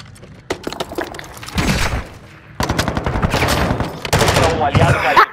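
Warzone DMZ gunfire in the Koshei Complex rattles out in rapid automatic bursts and sharp single shots, loud and close, with the volume rising and falling as the firefight goes on.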